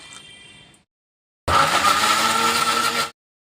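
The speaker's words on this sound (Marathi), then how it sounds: "याचा ज्यूस तयार करून घेणार आहे मी आता मिक्सरला लावून" Mixer grinder running hard as it blends fresh mint into juice, a loud steady whirring roar lasting about a second and a half after a short quieter stretch and a pause.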